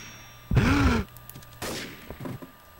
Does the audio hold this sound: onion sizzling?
no